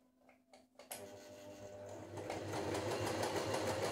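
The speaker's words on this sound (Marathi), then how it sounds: "मी आता तुम्हाला A आणि G दोन्ही शिलाई एकदमच दाखवते करून." An Usha automatic electric sewing machine stitches A and G decorative patterns; after a few quiet handling knocks it starts up and runs in a steady, close, rapidly pulsing whir that gradually grows louder.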